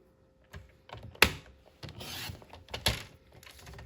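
Scissors cut paper for a craft fold, giving a few sharp snips and rustling handling sounds up close, short and irregular in rhythm.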